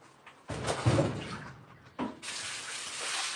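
A kitchen faucet runs into a sink in bursts, a splashing gush starting, pausing briefly, then flowing again steadily, close and moderately loud.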